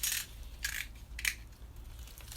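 Secateurs snipping through thick, fleshy begonia stems; three quiet, crisp crunchy snips spaced about half a second apart, close by over a low background hum.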